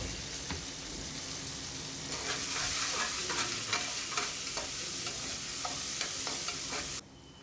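Onions and tomatoes with curry leaves and spices cook in a pan for a pea kurma, giving a steady sizzle and frying hiss with scattered stirring scrapes and clinks, close up and without talk, ending abruptly.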